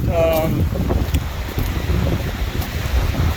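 Strong outdoor wind buffets the microphone in a steady low roar on a chilly autumn day at high northern latitude, with brief faint tones early on.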